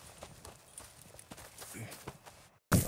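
Horse hooves clip-clopping in the western game Red Dead Redemption 2: soft, irregular hoofbeats at a walking pace under quiet ambience, ending in a sudden louder burst of sound as the clip closes.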